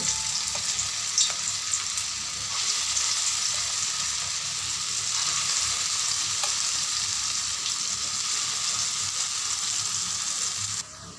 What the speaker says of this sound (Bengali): এবার আমি এক এক করে কোপ্তাগুলো ভেজে নেব